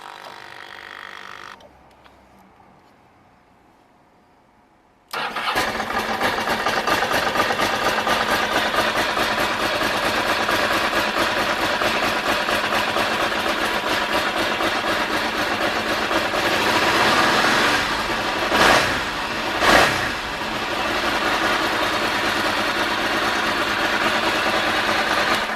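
A 2002 Ducati MH900E Mike Hailwood Edition V-twin motorcycle cranks after a quiet pause, fires and settles into a loud, close, steady lumpy idle, with two brief throttle blips near the end.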